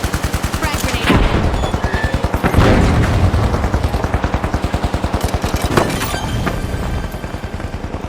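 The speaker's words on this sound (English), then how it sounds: "Frag grenade out." In the video game The Finals, a frag grenade explosion bursts among sustained rapid automatic gunfire, with loud, dense rhythmic shots rattling up close and several heavy booms punctuating the firing.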